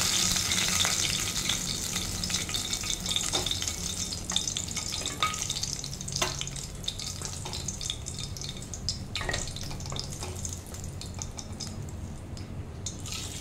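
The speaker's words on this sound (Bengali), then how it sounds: "এবার ওই একই তেলে আমি জিরে ফোড়ন দিয়ে আলুগুলোকে ফ্রাই করে নেব।" Potatoes and cumin seeds fry in oil left over from frying fish heads, giving a steady close sizzle with occasional stirring scrapes and small crackles throughout, no voices.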